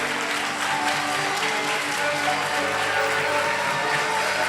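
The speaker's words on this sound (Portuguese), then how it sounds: "Você pode aplaudir o Espírito Santo" Congregation clapping in a church service, a steady wash of applause over sustained keyboard chords, continuous and moderately loud throughout.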